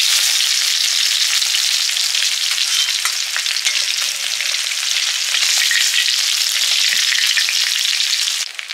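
Fish frying in hot oil, four kinds including shol, lyatha, magur and koi, gives a loud, steady crackling sizzle that runs unbroken and close throughout, easing off only at the very end.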